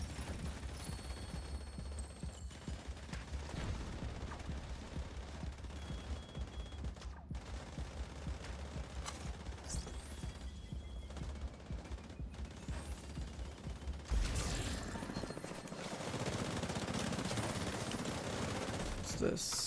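Gunfire in The Division 2 video game: dense bursts of automatic weapon shots rattle on continuously over busy game ambience, with a sharp shift in intensity near the end.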